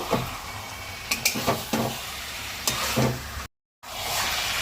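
Marinated chicken is stirred and sautéed in spices in a pan for a Bengali chicken dish: a few close scraping strokes and metallic knocks sound over a soft sizzle, with a brief gap of silence near the end.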